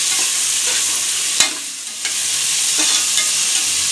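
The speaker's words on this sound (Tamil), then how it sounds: "நல்லா கலக்கி விட்டுக்கோங்க" Onions and green chillies frying in a pan sizzle loudly and continuously, broken by a few sharp scrapes and knocks of a spoon stirring against the pan. No voices.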